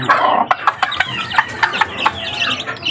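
Backyard chickens and young chicks being fed cluck in short, sharp bursts, several calls close by at an uneven rhythm over a low background murmur.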